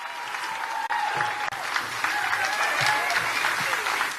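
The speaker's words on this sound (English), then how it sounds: "Big round of applause." A crowd at a political rally claps steadily and loudly, sustained applause with a few whoops and cheers mixed in, no pauses.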